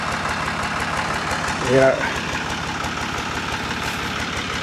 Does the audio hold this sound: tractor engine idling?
yes